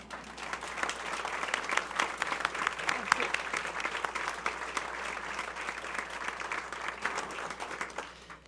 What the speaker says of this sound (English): If you can't, applaud them now.